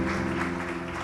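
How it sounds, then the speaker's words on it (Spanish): Applause from a church congregation, a steady wash of clapping heard faintly and briefly, without talk. "Le das un aplauso al Señor, por favor"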